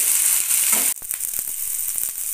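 Cauliflower stalks fry hard in a pan over a full gas flame, a loud, dense sizzle that dips for an instant and then carries on with light stirring clicks.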